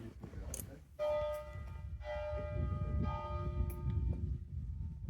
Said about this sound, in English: And another thing, bells.